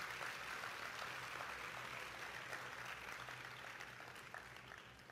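A church congregation applauds God during a sermon, a faint, distant-sounding wash of steady clapping that holds for about five seconds and thins slightly toward the end.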